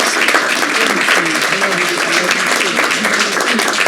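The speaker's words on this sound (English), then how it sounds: "Can we have a round of applause for these wonderful ladies?" A crowd at a town council meeting applauds steadily with dense, continuous clapping, loud and close, while voices talk underneath.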